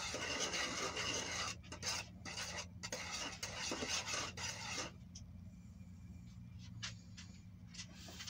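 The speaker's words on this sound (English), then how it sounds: "It didn't say how long to stir, so I'm just stirring as long as I figure." A bathtub coating mixture stirred steadily with a scraping, rasping rhythm against the container, loud and close, easing to a quieter, sparser scrape partway through.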